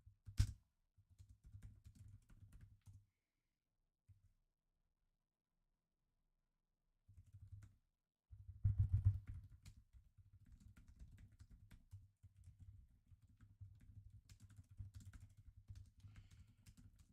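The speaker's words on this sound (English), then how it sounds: "Sorry, I'm just typing right now." Fingers type on a computer keyboard, a faint, close clatter of keystrokes in irregular bursts separated by short pauses.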